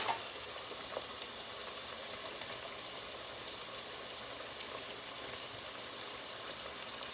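Homemade potato chips fry in hot oil for kielbasa dogs, giving a steady, moderate hiss of sizzling bubbles with faint scattered crackles and no one speaking.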